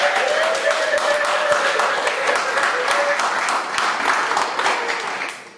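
A church congregation applauds during a Sunday service, a dense, sustained wave of clapping that fills the room before fading at the end, with a voice faintly heard over it.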